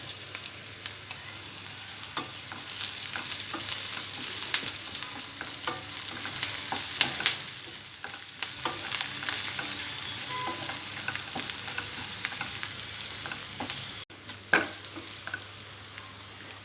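Onions sizzle in hot oil as ginger paste and turmeric go in, a steady crackling fry punctuated by scraping and stirring clicks of a spoon against the pan, with no voices.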